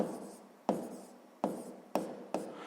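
A pen writes on paper while a math exercise is worked out, making faint scratching strokes with about five sharper taps spaced roughly half a second apart, and no talking.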